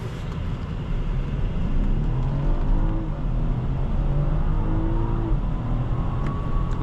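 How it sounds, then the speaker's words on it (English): Big BMW 740i M Sport sedan pulling hard under an acceleration boost, a steady engine drone rising gradually in pitch over road and wind noise, continuous from inside the cabin with no talking. "You pull the minus pedal to give you some acceleration boost"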